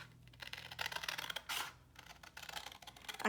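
Scissors cutting a paper mini file folder, a series of quiet crisp snips and rustling paper close by, irregular in rhythm with short pauses between cuts and no speech.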